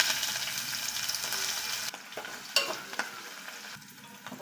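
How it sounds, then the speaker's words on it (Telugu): Onions, cumin and tempering spices frying in hot oil, a bright sizzle that drops suddenly partway through and gives way to quieter stirring clinks and scrapes. "ఆయిల్ వేడెక్కిన తర్వాత మనం పోపు దినుసులు, జీలకర్ర, ఇప్పుడు ఉల్లిగడ్డలు వేసుకున్నాము."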